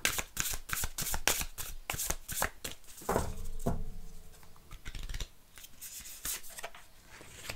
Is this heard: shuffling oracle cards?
yes